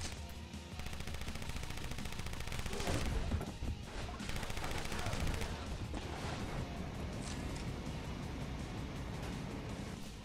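Gunfire in the motorcycle combat game Road Redemption crackles through a dense, noisy mix of engine roar and crashes, a few louder bursts standing out early on.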